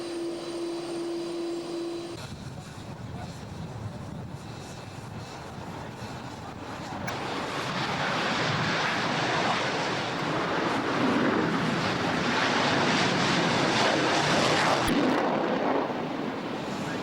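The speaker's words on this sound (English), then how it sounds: "this enormous A330, this is the big wide-bodied two-engine jet" An Airbus A330 wide-body twin-engine jet roars past at an air show, a broad rumbling engine noise swelling from moderate to loud and sustained.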